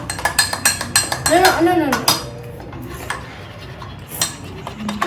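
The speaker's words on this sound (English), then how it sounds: "And then you're going to mix it again. You have to mix it fast." An eggless Oreo mug cake batter of cocoa powder is whisked fast in a mug, producing a quick rhythmic series of spoon clinks and scrapes against the sides, close and fairly loud, with brief talk over it.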